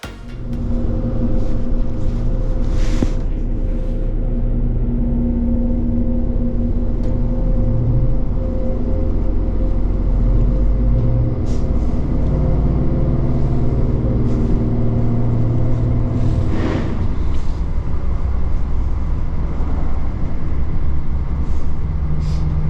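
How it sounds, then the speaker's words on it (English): A red RegioShuttle railcar rides along the Nagold Valley Railway, heard from inside as a loud, constant low rumble and hum with occasional clacks and rattles across the whole ride. "this is now the red version of the RegioShuttle"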